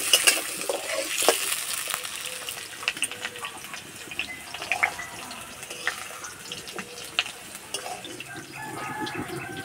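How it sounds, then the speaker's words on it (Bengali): Potatoes frying in oil in a pan while a vegetarian chhana dalna is prepared: a steady crackling sizzle with scattered pops and stirring clatter, moderately loud and close, with no voices. "আলু হালকা লাল করে ভেজে নেব।"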